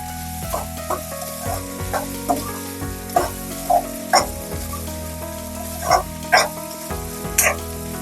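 Tomatoes frying in a pan for a spicy pasta curry, a steady sizzle running throughout with repeated scrapes and stirs of a spoon, close by and fairly loud.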